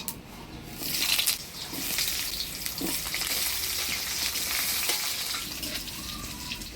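Potatoes frying in hot spiced tempering oil with whole cumin, a loud continuous close sizzle and hiss, with stirring scrapes now and then.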